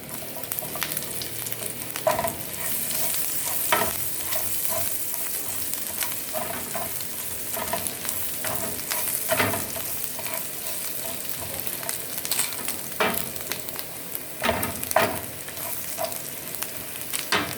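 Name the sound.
garlic sautéing in a pan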